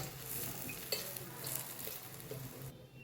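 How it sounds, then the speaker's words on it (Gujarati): Cheese aloo paratha roasting in a pan over a low gas flame, a steady soft sizzle with faint scraping and light clinks of a utensil, close and quiet. "ધીમ ગેસ ઉપર શેકી દઈએ."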